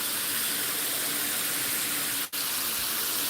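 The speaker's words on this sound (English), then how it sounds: "So you add the water to keep it healthy." Water pours steadily into a Gardyn hydroponic tank, a continuous close gushing hiss with one brief break near the end.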